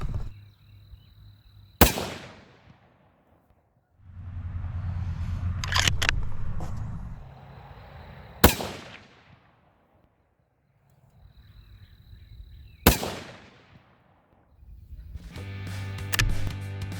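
Three sharp, loud rifle shots from a 270 WSM and a 7mm PRC crack at spaced intervals, each trailing into a decaying echo, with low rumbling handling noise and movement between them and no talk.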